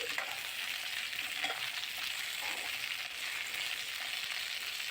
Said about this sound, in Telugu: ఇవి వేసుకొని ఫ్లేమ్ తక్కువ పెట్టుకొని వేయించుకోవాలి